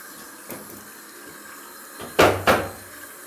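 A bathroom tap in a Spanish home runs water into a draining sink, with two sharp gushing bursts near the end over faint background noise.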